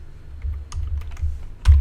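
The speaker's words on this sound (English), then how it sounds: "I'm going to be using the B button on my keyboard" Computer keyboard keys pressed a few times in quick succession, close and fairly clear, ending in one firmer, louder press.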